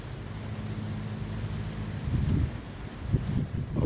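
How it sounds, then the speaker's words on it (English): Strong storm wind buffets an Ozark Trail 10-person cabin tent in the Ozark Mountains, a low rushing roar that swells into heavier gusts and flapping toward the end. "Still kicking 18 to 20 mile an hour winds."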